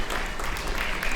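Audience applause at an Afghan Independence Day celebration in Melbourne, a steady wash of many hands clapping throughout, moderately loud and continuous over the short stretch.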